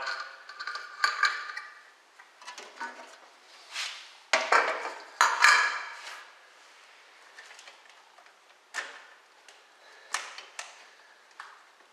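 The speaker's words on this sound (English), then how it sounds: "I'm going to go ahead and put the air cleaner on the correct way." An air cleaner is fitted onto a 1984 Ford Mustang engine, producing scattered metallic clanks, taps and rattles in irregular bursts against a quiet background.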